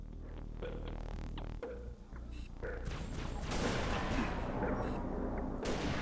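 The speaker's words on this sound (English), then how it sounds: "Definitely had my sights on him when I shot him through a wall." Gunfire rattles in the video game Halo Reach, with repeated shots, booms and crashes building into dense sustained firing, loud and close.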